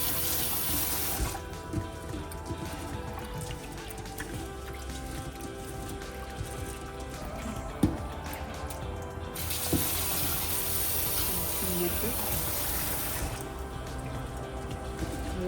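Moong dal and rice are washed in water by hand, making continuous splashing and trickling, like a running tap, with soft sloshes and a few clinks throughout and no talk.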